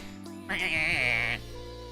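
A goat bleats once in a tabletop role-playing game, a single loud, wavering cry lasting almost a second over a steady background hum.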